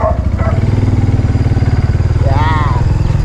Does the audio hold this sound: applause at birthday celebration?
no